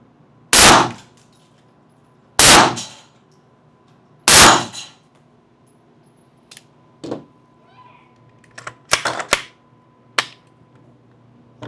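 Scorpion Evo fired at an indoor shooting range, three loud sharp reports spaced about two seconds apart, followed by quieter clicks, clanks and scattered metallic handling sounds.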